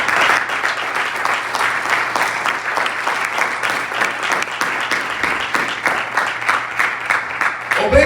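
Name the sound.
audience applauding in church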